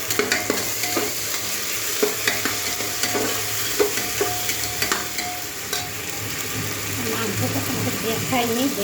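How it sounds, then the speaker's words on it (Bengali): Ginger garlic paste frying in a pan with already-fried onions, steady soft sizzle under repeated scraping stir strokes, close and moderately quiet, with a low background hum. "এই যে পেঁয়াজটা ভাজা হয়ে গেছে, এবারে আমি আদা রসুনের পেস্টটা দিয়ে দেবো"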